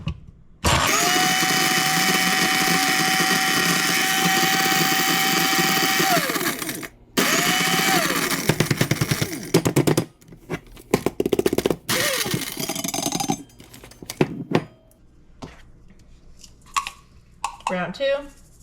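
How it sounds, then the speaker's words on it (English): Electric spice grinder whirring loudly through dried pepper chunks for paprika in steady bursts, stopping and restarting several times with rattling pauses between runs. "toss the chunks back into the spice grinder"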